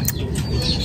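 Racing pigeon cooing in a short burst, low soft coos close by, with faint chirps and a wing flutter in the background.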